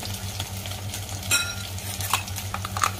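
Soya chaap sizzles and fries in a pan for malai soya chaap, with a steady low frying hiss, a few soft stirring scrapes and utensil clinks, and no voices.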